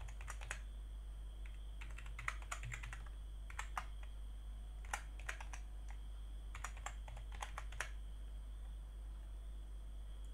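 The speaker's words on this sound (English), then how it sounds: "And then type your email." Fingers type on a computer keyboard while filling in an email during a sign-up, a quiet rhythm of clustered key clicks in bursts over a low steady hum.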